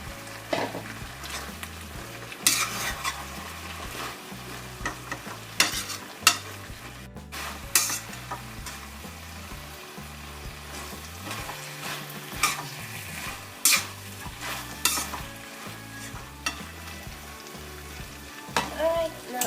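Pork and Chinese celery stir-frying in a pan, a continuous crackling sizzle broken by repeated clinks and scrapes of a utensil stirring against the metal, close and fairly loud, with faint background music.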